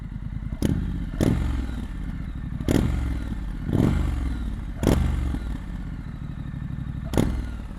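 A 2021 Triumph Street Scrambler motorcycle engine idles close by, broken by repeated sharp revs and thumps that come roughly every second or so over a low steady rumble.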